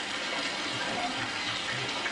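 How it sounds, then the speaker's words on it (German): Water runs steadily into a basin and begins to swirl, making a continuous rushing, gushing noise at fairly close range with no pauses. "Heute hast du das Wasser einfach reingelassen."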